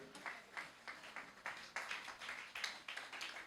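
A church congregation applauding, faint and distant, with rhythmic clapping that comes in regular bursts, almost like clapping in time.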